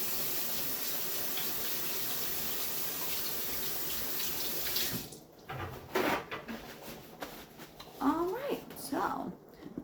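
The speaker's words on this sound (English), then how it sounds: "Now I really need to wash my hands." Tap water runs steadily into a kitchen sink for about five seconds, then shuts off, followed by brief handling clatter and a person speaking nearby.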